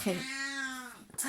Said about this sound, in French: c'est mon chat voilà, qui s'exprime